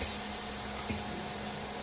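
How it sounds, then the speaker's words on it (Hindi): Water is poured into frying masala in a cooking pan for a festival offering, producing a steady, even hiss and sizzle that continues unbroken, with a brief soft knock partway through. "थोड़ा सा हम इसमें पानी डालेंगे जिससे हमारा मसाला फूक ना जाए"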